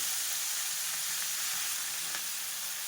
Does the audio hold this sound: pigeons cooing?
no